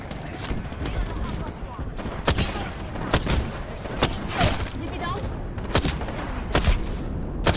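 Airstrike explosions in the Apex Legends video game land as a series of sharp, booming blasts spaced irregularly over continuous gunfire and battle noise. Voices are heard.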